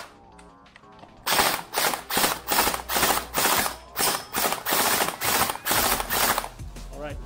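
An RX AKS-47 gel blaster with a 7-8mm gearbox fires a long run of about a dozen rapid shots, each a sharp mechanical clack-whir from the gearbox in an even rhythm, close and loud, after a brief quiet ratcheting lead-in.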